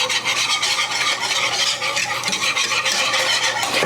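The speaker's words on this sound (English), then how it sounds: "let me give it a little whisk." A whisk stirs cheese into a thick casserole sauce in a pot, giving a steady scraping, rasping swirl that runs continuously and close up, with no talking.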